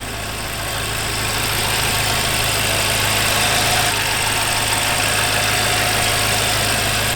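A BMW F10 M5 with an aftermarket RK Titanium exhaust idles while warming up, a steady, close low rumble that holds even and unbroken throughout.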